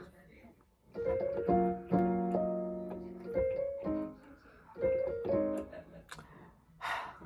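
Piano playing the chords of a song with both hands, left-hand bass under right-hand chords, a steady sequence of sustained chords, close and moderately loud.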